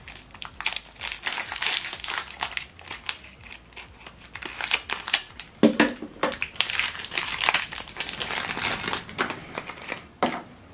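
Plastic wrapping is pulled off an HP 305 ink cartridge for a Deskjet 2800 printer, giving close, loud bursts of crackling and crinkling in irregular clusters that continue throughout, without any talk.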